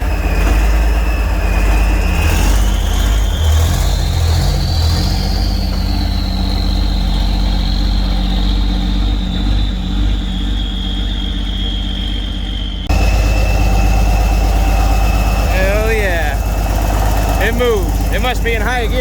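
A 1987 Freightliner FL86 cabover with a big cam Cummins idles loud and close for a long steady stretch while it builds air. A rising whine runs underneath, and there are brief hissy bursts toward the end.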